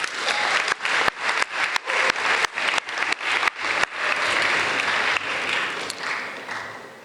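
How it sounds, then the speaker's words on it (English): A school assembly audience at a spring athletics event claps for a student athlete, starting with scattered, separate claps that build into dense, continuous applause before tapering off at the end. "A round of applause for Alice Machida."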